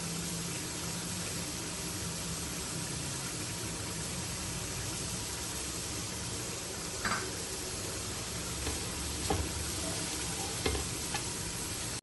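Shredded cabbage and grated carrot lightly stir-fried in a pan for Chinese kebabs, a steady broadband sizzle running throughout with a few sharp utensil scrapes and clicks near the end, no talking.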